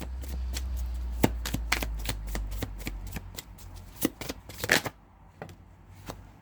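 Tarot cards being shuffled by hand, a quick run of crisp riffling flicks and soft slaps that slows and thins toward the end, close and fairly quiet.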